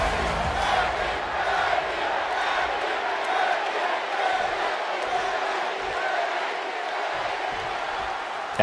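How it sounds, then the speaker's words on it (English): A capacity arena crowd in the WWE 2K25 wrestling game roars steadily as a Becky Lynch match gets underway, a loud, continuous wash of cheering and shouting with no break. "this capacity crowd is ready to see Becky Lynch in action"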